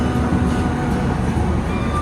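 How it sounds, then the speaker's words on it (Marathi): A passenger train just departed from Bandra Terminus heading toward Girnar, heard from inside as a steady, loud low rumble with faint rhythmic wheel beats and no talking. "फायनली बँड्रा टर्मिनसवरून आमची ट्रेन बरोबर निघाली"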